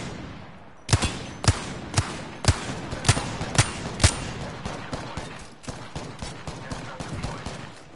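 Gunfire in a ranked multiplayer shooter match: about a dozen sharp, loud shots ring out at roughly half-second intervals, followed by a quicker, lighter burst of fire, with no talking over it.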